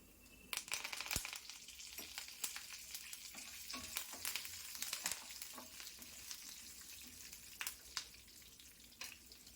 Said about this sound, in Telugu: ఇవి బాగా ఫ్రై చేసుకుందాము కొద్దిసేపు